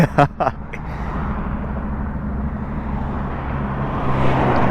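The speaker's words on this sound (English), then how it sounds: "I didn't know they'd be Jake breaking it for so long" A truck's engine brake (Jake brake) rumbles on and on with a steady low drone, heard from a moving motorcycle with wind noise and a brief voice at the start.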